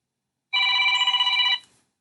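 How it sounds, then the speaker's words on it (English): A telephone rings once outdoors in an open field, a single loud electronic trill lasting about a second, clear and close against near silence. "Hold on a second, got a phone call."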